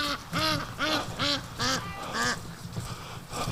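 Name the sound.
ducks quacking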